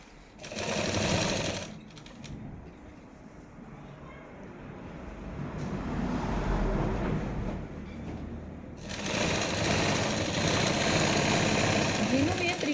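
Sewing machine running in bursts while stitching the lining into a kameez, its loud steady whirring starting and stopping across the stretch, with a quieter pause in the middle and a voice heard faintly in the background.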